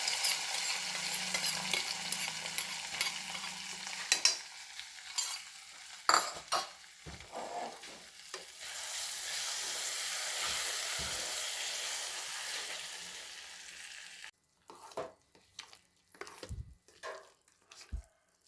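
Pongal stirred into hot tempering in a pan with a soft sizzle, a spoon scraping and clinking against the metal in uneven strokes, some brief pauses between.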